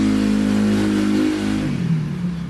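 Loud engines of motorcycles and cars without mufflers rev and roar nearby on a Manila street at night, a droning vehicle with a rough, unmuffled note that shifts pitch as it passes.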